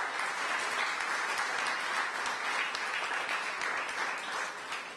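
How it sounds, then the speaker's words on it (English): An audience applauds local businesses at a mayoral announcement event in Ward 5, steady sustained clapping from many hands throughout, even and fairly close, tapering slightly at the end. "and they deserve a round of applause as well."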